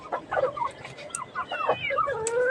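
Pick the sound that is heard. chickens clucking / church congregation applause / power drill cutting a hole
chickens clucking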